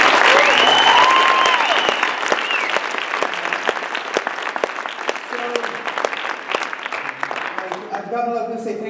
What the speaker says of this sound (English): So they all deserve a round of applause.